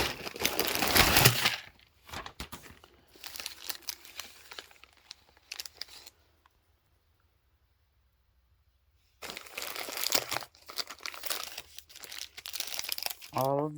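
Plastic bag of letter stickers being opened, with bursts of close crinkling and rustling, a pause of near silence, then more crumpling; a voice talks in between.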